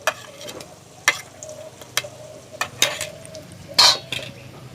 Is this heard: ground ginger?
yes